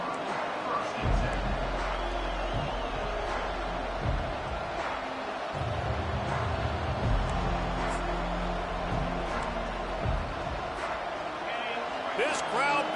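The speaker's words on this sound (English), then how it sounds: "This crowd bringing the energy and noise early." Stadium crowd noise from a Madden football video game, a steady roar that holds throughout at moderate loudness, with sharp impact hits and bursts of cheering rising above it, while a commentator talks over the top.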